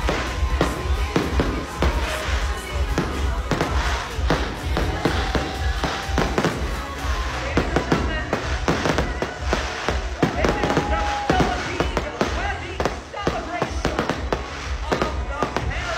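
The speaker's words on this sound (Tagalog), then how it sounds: "ay isa namang malaking bonggang fireworks ang naganap sa gabing iyon" Large fireworks display at a night-time birthday celebration at a Bali resort, a continuous barrage of crackling bursts and thuds, with voices of a crowd mixed underneath.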